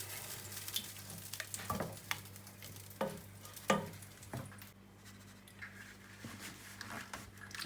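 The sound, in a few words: stirring masoor dal in a pan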